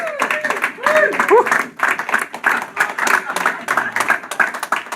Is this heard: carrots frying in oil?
no